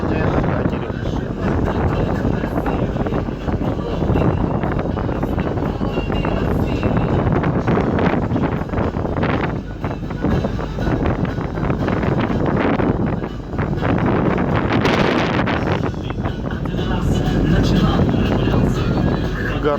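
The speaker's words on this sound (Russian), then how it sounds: "Архипа Осиповка, катание на катере." A motor boat excursion onto the open sea off Arkhipo-Osipovka: steady engine drone mixed with heavy wind buffeting the microphone and water rushing past the hull, fluctuating in loudness throughout.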